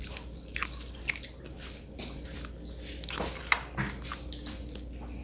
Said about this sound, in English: I should definitely be able to hear your crunch since you're right there on the phone recording and everything.